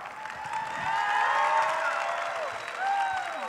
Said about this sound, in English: Round of applause for the excellent artwork.